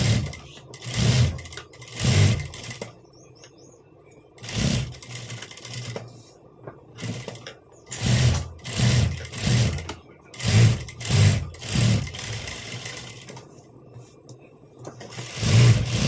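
A sewing machine stitches a blouse design in short bursts of rapid, close mechanical whirring, separated by brief pauses.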